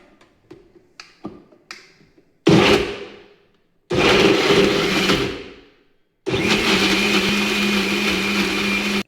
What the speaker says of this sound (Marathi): आता हे आपण मिक्सरवरून काढून घेऊयात